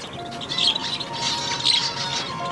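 Pet zebra finches and double-barred finches chirp in short, bright bursts, a few quick tweets in a row, close and moderately loud over a faint steady hum.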